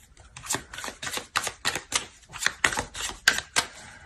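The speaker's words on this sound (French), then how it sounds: "On va rajouter des cartes." Tarot cards are drawn and laid down one after another in a steady run of about a dozen crisp, papery slaps and shuffles, close and fairly quiet, with no talking.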